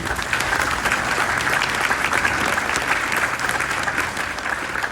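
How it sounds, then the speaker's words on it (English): Warm, sustained applause from a church congregation for the sound technicians at St. Hedwig's Memorial Day Mass, many hands clapping steadily and evenly throughout, filling the space. "Give them a round of applause."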